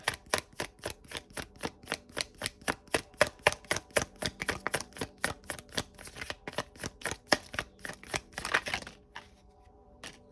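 Tarot cards riffled and shuffled in a rapid, even run of crisp flutters for about nine seconds, close and clear, ending in a quieter pause.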